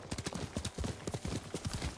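Horse hooves clip-clop in a quick, steady rhythm in Ghost of Tsushima, a galloping sequence of close, distinct hoofbeats with no talking.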